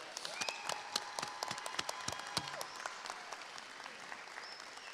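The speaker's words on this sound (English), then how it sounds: "can we give these fine students a big round of applause?" A graduation audience applauds at a high school commencement ceremony, a steady patter of many hands clapping at moderate distance, with a few sharper nearby claps standing out.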